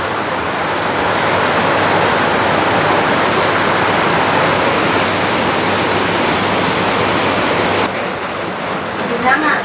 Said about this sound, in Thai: น้ำไหลลงท่อเนาะโอ้ไหลแห้งเลยพี่น้อยไหลลวกเลยเนาะ